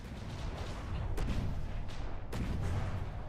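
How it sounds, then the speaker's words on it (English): Missiles explode in mid-air in the naval combat game From the Depths. Sharp booming bursts punch through a dense, continuous rumble of battle noise. "the missiles launched from the darts just exploding mid-air"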